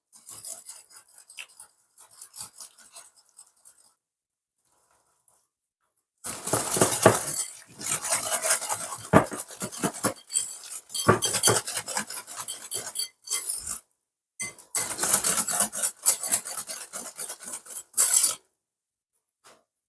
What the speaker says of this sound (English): I'm just going to use a whisk to cream this